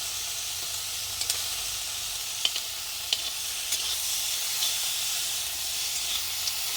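Crab, prawns and fish frying together in one pan give a soft, continuous sizzle and hiss, dotted with a few faint pops and crackles, with no voices.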